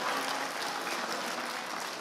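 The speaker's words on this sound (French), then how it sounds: "Applaudis Seigneur, là, applaudis le d'accord avec moi." A church congregation claps for the Lord during a sermon, a steady patter of many hands, moderately loud, that fades slightly toward the end.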